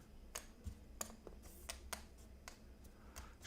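Rune stone cards for a board game are shuffled by hand, producing a quick run of soft, close clicks and taps at an irregular rhythm in a quiet room.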